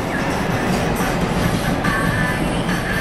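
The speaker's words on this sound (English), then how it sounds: "waiting for the train to go by. This is the second train to go by." A train rolls past on railroad tracks close by, a steady loud rumble of wheels and cars with faint squealing, no talk over it.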